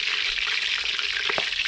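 Pork belly laid skin-side down in hot oil, a loud continuous sizzle and crackle of frying that holds steady for the whole moment, with a couple of brief low knocks near the end.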